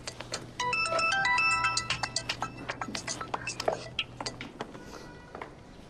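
A mobile phone ringtone plays a bright electronic melody for about two seconds, followed by a string of light clinks and taps in a quiet room.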